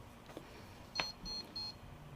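Three short electronic beeps sound in a row, evenly spaced and quiet, over a faint background hiss.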